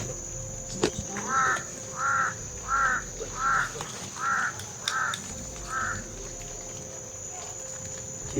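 A crow caws about seven times in an even rhythm, moderately close, over a steady high insect buzz and low rural background noise.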